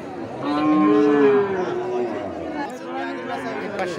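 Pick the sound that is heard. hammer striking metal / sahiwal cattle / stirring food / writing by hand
sahiwal cattle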